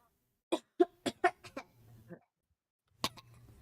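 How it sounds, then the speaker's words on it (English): Several quick, close coughs come in a burst, followed by a pause and then one more cough, with little else around them. "Hang on, need to cough."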